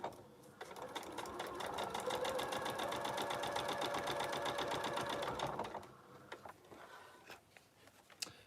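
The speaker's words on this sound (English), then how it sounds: "So now I sew down the 6-7 stitch line." A sewing machine stitches a quilt block for a summer quilt, a rapid, steady mechanical whir running loud and close for several seconds before stopping, followed by a few soft handling clicks.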